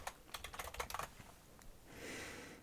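Quick, light keystrokes on a computer keyboard in a quiet room: a short burst of close, soft clicking that stops, followed by a faint steady hiss.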